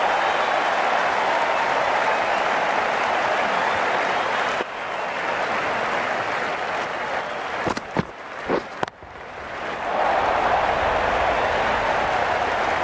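Crowd applause in the cricket video game Cricket 19, an England versus Australia match: a dense, steady wash of clapping from a large stadium crowd, briefly dipping and breaking up near the end before swelling again.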